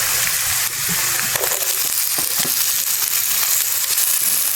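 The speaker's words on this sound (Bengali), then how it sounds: "পেঁয়াজ যখন এরকম গোল্ডেন ব্রাউন হয়ে আসবে, তখন আমরা আগে থেকেই কুচিয়ে রাখা টমেটো দিয়ে দেব।" Chopped tomatoes dropped into golden-brown onions frying in a pan for a Bengali duck egg curry, giving a loud, continuous hissing sizzle with a few scraping, crunchy bursts as they land, no talking.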